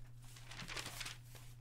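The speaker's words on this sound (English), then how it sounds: "He's shuffling papers." Papers being shuffled and handled, a few soft crinkling, rustling bursts close to the mic, faint over a low steady electrical hum.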